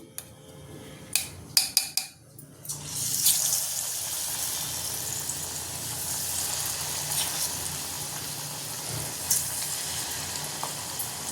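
Paneer pieces for crispy pakodi slip into hot oil after a few clinks of kitchenware, then a steady, close sizzle of frying runs on alone.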